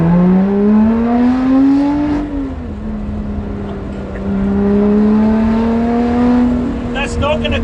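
A Lotus Exige 430 Cup 'Type 49' engine revs hard with a sharp throttle, its loud, close pitch climbing quickly, dipping, then rising again in repeated surges.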